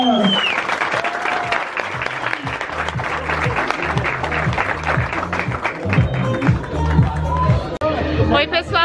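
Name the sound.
audience applause at a store opening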